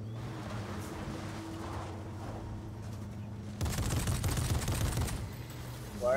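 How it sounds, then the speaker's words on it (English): Gunfire in a video game, aimed at an NPC, comes after a stretch of low rumbling ambience as a dense, loud burst of rapid shots lasting about a second and a half. A short louder sound follows at the end. "Why are you shooting that NPC?"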